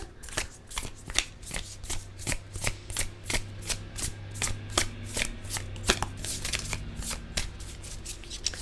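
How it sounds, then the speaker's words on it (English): A deck of oracle cards being shuffled by hand, a steady run of crisp riffling snaps and slaps, close and clear with no talking. "now we're going to pull some oracle cards to close out your reading"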